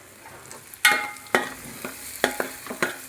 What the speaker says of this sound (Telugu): ఉల్లిపాయ బాగా వేగిందండి.